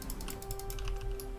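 Fast keyboard typing during a League of Legends ranked match, a steady run of close, crisp key clicks with no talking.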